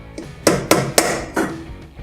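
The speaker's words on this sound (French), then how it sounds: "Je vais ensuite clarifier les œufs, c'est-à-dire séparer le blanc du jaune." Eggs cracked against a bowl rim and separated for a chocolate cake, giving four sharp, close knocks spaced about a quarter to half second apart over faint kitchen background.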